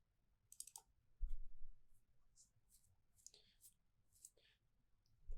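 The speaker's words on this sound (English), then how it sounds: "And then we're going to double click to open." A computer mouse clicking quietly a few times in short taps, with soft background noise and faint breathy voice sounds.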